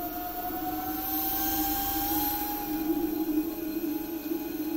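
High electric whine from a Bolzzen Gladiator electric scooter motor in turbo mode, steady tonal hum with a faint rumble under it, moderately quiet and unbroken with no talking.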